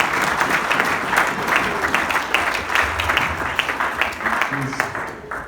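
A church congregation at a French-language Sunday service applauds and cheers loudly in praise, a dense, sustained wash of clapping with voices mixed in, filling the whole stretch.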